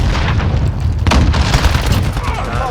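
A C4 charge detonates in the Modern Warfare video game, a loud boom bursting through a dense, continuous wash of gunfire and game noise about a second in, with a voice talking underneath.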